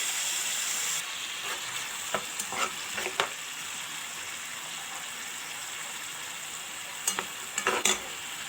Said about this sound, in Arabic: اول حاجه هندي البصل تقريبا كده تشويحه على النار، وبعدين هننزل بالطماطم بتاعتنا.